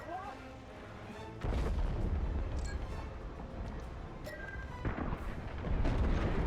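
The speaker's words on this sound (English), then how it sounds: "The frigate is about to explode." A frigate blows apart in the Star Wars: Squadrons space combat game, a heavy, rumbling explosion that swells and rolls on over a dense battle soundscape of booms and blasts.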